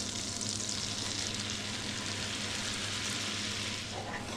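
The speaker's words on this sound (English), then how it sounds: "Right, I'm going to sprinkle my flour on." Flour sprinkled into a hot pan of fat for a roux, giving a steady close sizzle and frying hiss with no break, a low hum running beneath it.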